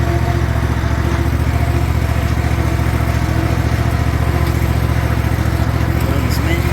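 Cub Cadet ZT1 zero-turn riding mower with a 54-inch deck, its engine running at low RPM with a close, steady, even chugging throb.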